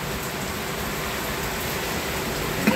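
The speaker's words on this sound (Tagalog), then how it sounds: "ang lakas ng ulan" Heavy rain pours steadily during a typhoon by a backyard tarpaulin pond, a dense, even hiss with no pauses and no voices.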